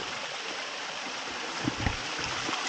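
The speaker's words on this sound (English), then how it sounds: "Little waterfall there." A small waterfall inside an abandoned mine in the Elan Valley, a steady faint hiss of falling water with a couple of soft splashes near the end.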